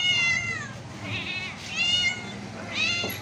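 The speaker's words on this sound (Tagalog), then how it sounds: "ito yung mga pusa ngayon" Several cats, including an orange one, meow repeatedly outdoors in a street setting, with three clear drawn-out cries spaced across the moment over a low steady background hum.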